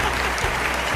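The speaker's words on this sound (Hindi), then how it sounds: "आपके लिए तालियां।" A dense burst of applause rewards a correct answer to a riddle, steady and close for about a second, with no voices on top.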